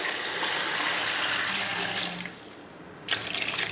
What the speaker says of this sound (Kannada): ಈಗ ಇದಕ್ಕೆ ನೀರು ಹಾಕ್ತಾ ಇದ್ದೇನೆ.